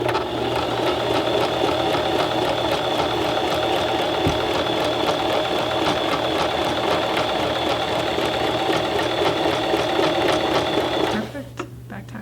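A sewing machine runs steadily, stitching a back tack with a dense, fast mechanical whir and ticking rhythm for about eleven seconds, then stops abruptly, leaving faint background noise.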